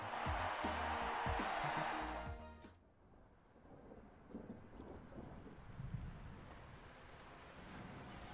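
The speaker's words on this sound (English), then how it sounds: "It's a terrible day for rain." Rain and rolling thunder from the video game Tokyo Mirage Sessions FE, a loud broadband wash for the first two and a half seconds, then a softer steady patter of rain with low rumbles continuing to the end.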